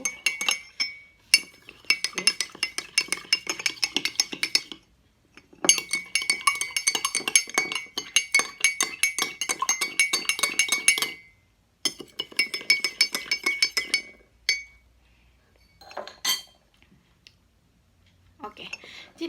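A spoon stirs a solution in a laboratory glass, clinking rapidly and steadily against the sides in long bursts separated by short pauses, close and clear with no talking.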